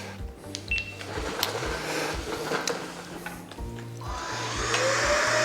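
An Oraimo Ultracleaner S2 stick vacuum runs with a steady, close motor whine and airflow. Beeps and clicks come as settings change, and the drone rises and grows louder near the end, with no talking.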